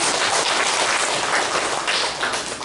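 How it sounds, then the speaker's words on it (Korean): Congregation at a church worship service applauding, a dense, steady wash of clapping from a crowd that holds throughout and eases slightly near the end. "박수 부탁드리겠습니다"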